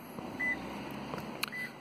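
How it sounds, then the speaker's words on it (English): A 2017 Toyota Yaris Hybrid, 1.5 hybrid, sounds a short electronic warning beep as the driver walks away with the key, a few faint tones over quiet outdoor background. "It beeps to let you know you're leaving it alone."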